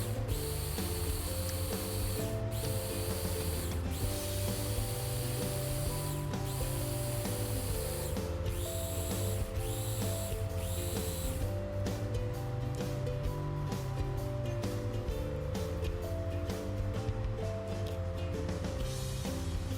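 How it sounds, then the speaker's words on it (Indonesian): An electric food chopper running continuously as it grinds karedok peanut sauce until smooth, a steady dense whirring hum that stays level throughout, close with no talking. "Ini saya chopper sampai halus."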